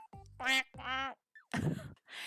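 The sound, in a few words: woman imitating a duck quacking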